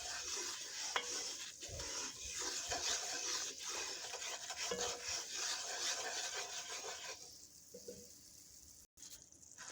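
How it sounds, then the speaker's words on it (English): A spoon scrapes and rubs around a pan as a roux is stirred, with repeated uneven strokes and a soft sizzle, close and alone. "she keeps stirring it"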